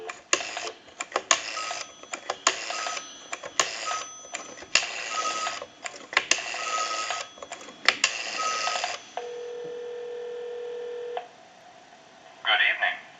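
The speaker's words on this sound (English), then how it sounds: "we'll call a time and temp number" A rapid string of touch-tone beeps dials a time-and-temperature number on a Monophone Model 40 telephone, followed by a steady tone and then a brief ringing burst, fairly close and clear.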